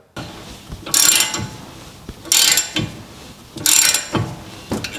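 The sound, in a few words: cordless electric ratchet spinning off bolts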